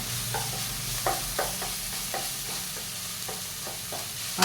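Chopped tomatoes and onions stir-frying in a pan for Kerala egg thoran, a steady low sizzle broken by repeated soft scrapes and taps of a spoon stirring the mixture, close up with no voices.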